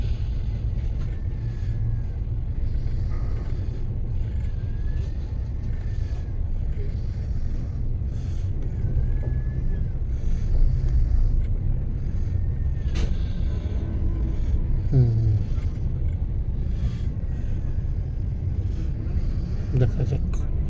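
A local train pulls away and runs on the line between Vizag and Srikakulam, a steady low rumble and rolling rattle close by with occasional squeals and clanks, background voices faintly under it.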